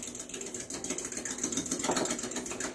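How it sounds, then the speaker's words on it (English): Two eggs are beaten with a fork in a small dish, a quick rapid clicking and tapping rhythm, close and fairly faint, with no talking. "I have 2 eggs here, and I am just going to beat them"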